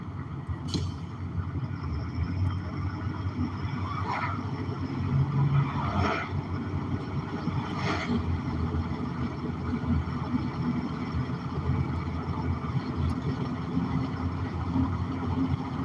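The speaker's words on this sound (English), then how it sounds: "Where's this Dead River truck going? Into the trailer park." A Dead River fuel delivery truck drives past on a road into a trailer park, giving a steady engine rumble and road noise that holds for about sixteen seconds at moderate distance, with no talking.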